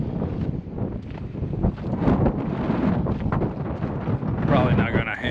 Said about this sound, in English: the weather sucks. It's windy,